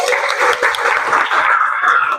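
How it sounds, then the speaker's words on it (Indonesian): A seventh-grade class claps together in a classroom, a dense burst of applause from many hands that keeps going steadily and stays fairly loud. "Oke, tepuk tangan untuk kita semua."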